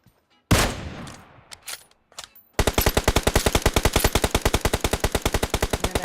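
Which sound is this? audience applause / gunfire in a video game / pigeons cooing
gunfire in a video game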